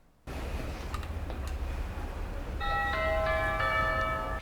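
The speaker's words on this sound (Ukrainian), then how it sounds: "Цей дзвоник тут сповіщає про особливих гостей." A small electronic bell chimes repeatedly in a steady ringing pattern, starting midway and continuing to the end over quiet room noise.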